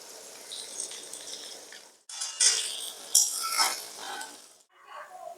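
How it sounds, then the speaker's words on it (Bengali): Sliced onions for biryani birista fry in a kadai with an uneven sizzle and hiss, broken by short gaps and bursts of louder crackle as they are stirred. "এবার আমি কড়াইতে দিয়ে দিলাম বেরেস্তার জন্য পেঁয়াজগুলো"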